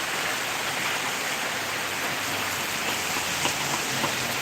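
Heavy torrential rain pours down onto a waterlogged roadside in a dense, continuous hiss that stays loud and even throughout, with no voices.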